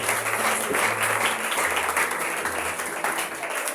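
A church congregation breaks into sustained applause acclaiming Jesus, dense clapping from many hands with a low sustained tone, probably an organ or keyboard, underneath.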